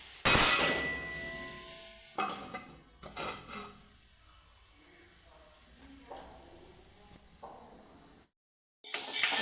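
A cooking pot lid lifts off during a vegetarian kohlrabi curry, with a loud metallic clang at the start, then softer clinks and scrapes, brief silence, and another clatter at the end, with a voice talking over part of it.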